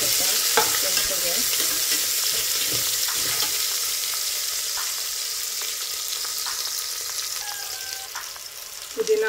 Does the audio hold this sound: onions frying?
yes